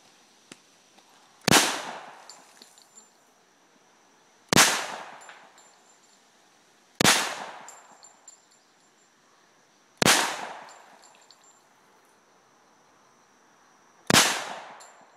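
Five sharp handgun shots at shooting practice, spaced roughly three seconds apart, each a loud close crack with a short ringing decay, and no talking between them.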